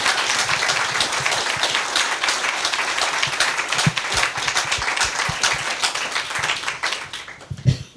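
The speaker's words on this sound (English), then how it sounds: "Can we have a very big round of applause for Sophie and Lynn?" An audience at a museum curators' talk on Berthe Weill and the Parisian avant-garde applauds loudly and steadily for several seconds, a dense wash of clapping that thins toward the end with a few final distinct claps.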